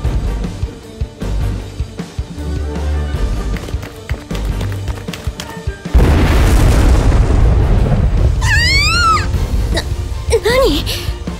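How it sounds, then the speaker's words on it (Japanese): A sudden, loud, roaring blast erupts midway through a Code Geass Lost Stories game scene and rumbles on for several seconds, followed by sweeping, chirping effects; game sounds and voices come before it. "足元から地下で爆発でも起きたの？"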